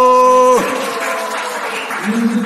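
Applause at a charity association's founding general meeting breaks out after a sustained voice-like tone, then carries on as a steady, dense wash of many hands clapping.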